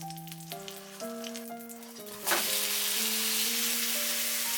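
Okonomiyaki, a Japanese cabbage pancake, frying in a pan: partway through, a loud, steady sizzling hiss starts and carries on to the end, with soft tonal music playing underneath throughout.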